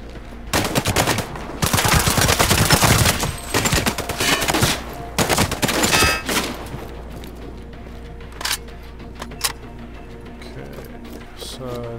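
Rapid gunfire bursts in Sniper Ghost Warrior 3 during an outpost fight, loud dense volleys over the first six seconds, then scattered single shots fading to quiet ambience.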